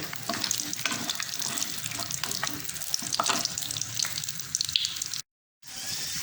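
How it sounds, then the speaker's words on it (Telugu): Cashews and almonds frying in ghee for vermicelli kheer, a bright continuous sizzle with stirring clatter close by, briefly cutting to silence near the end before the crackle resumes. "జీడిపప్పు, బాదం వేగుతుంది కదండి"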